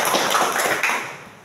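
Sixth-grade classroom of students claps for presenting groups, a short patter of hand claps that fades out within about a second and a half.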